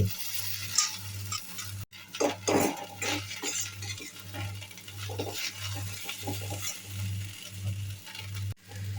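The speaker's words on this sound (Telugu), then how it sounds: "ఇలా టాస్ చేస్తూ కలుపుకున్నట్లయితే బాగుంటుంది." Poha (flattened rice) being tossed and mixed with green peas in a pan, giving soft scraping stirs and light utensil clinks over a steady low hum, continuous for several seconds with no talking.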